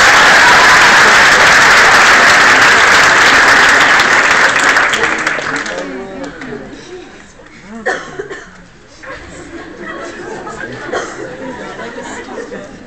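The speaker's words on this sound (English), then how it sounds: "Let's give another round of applause." Loud, dense applause from a live hypnotist show audience fills the first five seconds, then fades out into scattered claps, chuckles, coughs and murmured chatter.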